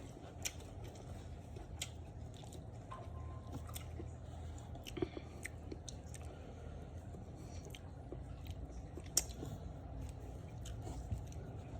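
Someone chews rice porridge close up, with soft, faint bites and squishy mastication over a steady low background hum.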